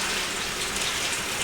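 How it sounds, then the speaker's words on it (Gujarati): Heavy morning rain in a wind storm makes a dense, steady roar of rainfall, loud and unbroken, with no voices. "જો અમારે કેટલું વરસાદ ને વાવાઝોડું છે"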